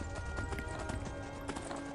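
Horse hooves clip-clop steadily while riding in the video game Skyrim, a continuous mid-loud trot layered over game ambience with no voices.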